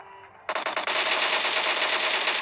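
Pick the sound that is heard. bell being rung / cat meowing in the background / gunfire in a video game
gunfire in a video game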